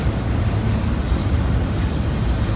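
Train running through the street in La Grange, Kentucky on a dreary day: a steady, low rumbling roar from the passing cars, fairly continuous and moderately loud, with no talking.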